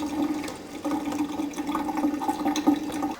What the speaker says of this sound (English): As you can see, the water's slowing down.